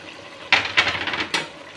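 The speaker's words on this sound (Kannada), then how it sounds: "ಇದಕ್ಕೆ ನಾನು ನೆನೆಸಿಟ್ಟಿರೋಂಥ ಅಕ್ಕಿನ ಸೇರಿಸ್ತಾ ಇದ್ದೀನಿ" Soaked rice goes into a pot of vegetable pulao in a few quick, wet pours and clatters, with brief splashy bursts close by and no talk.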